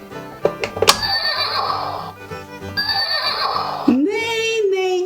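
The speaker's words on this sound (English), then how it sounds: "Neigh, neigh, says the horse." A brown horse lets out a single whinny near the end, rising and then falling. Before it comes a busy stretch of music-like tones and a few knocking thumps.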